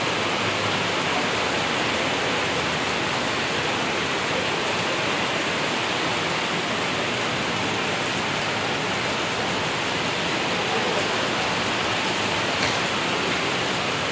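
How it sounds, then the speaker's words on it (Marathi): Heavy pre-monsoon rain with strong wind near Ghargaon on the Pune–Nashik highway roars as a dense, steady hiss that stays loud and unbroken throughout, with no voices. "घारगाव या परिसरात पावसाचं आगमन झालेलं आहे"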